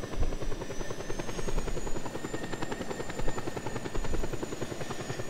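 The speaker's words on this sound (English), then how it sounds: "that's a cargo helicopter there" A cargo helicopter in the video game Just Cause 2 gives a steady, fast rotor chop with a constant engine whine, sustained and moderately loud, with no voices over it.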